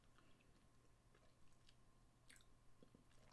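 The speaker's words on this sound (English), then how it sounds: "It's got some crunch. That's the salt crystals" Crunchy chewing of salted caramel chocolate, the salt crystals giving a faint, close crackle in short bursts against quiet room tone, with no talking.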